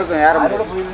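A snake kept in a clay pot at a crocodile bank venom-extraction center hisses close by, loud and sustained for about a second.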